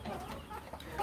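Farm chickens cluck in a dense, continuous chatter close by, filling the moment with overlapping fowl calls and no clear speech over them.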